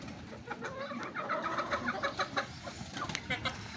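Chickens cluck and chatter while eating in a busy flock, with quick overlapping calls and soft pecking sounds close by, while a voice speaks faintly underneath.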